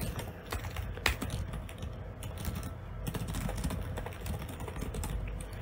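Computer keyboard being typed on while writing C code, a fairly quiet, close, irregular stream of key clicks with no voices.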